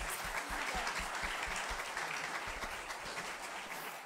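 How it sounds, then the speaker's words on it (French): A congregation applauds warmly during a Sunday Mass homily, a continuous, full wash of clapping from many hands that stays steady and slightly distant for the whole stretch. "On vous applaudit grandement."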